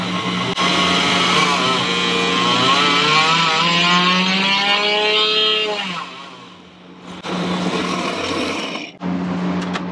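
A small, high-pitched Vortex Rok GP go-kart engine revs up and down repeatedly in rising and falling sweeps, loud and close, with brief dips to idle in between.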